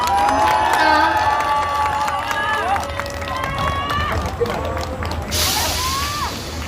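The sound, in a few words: crowd cheering and applauding at an election rally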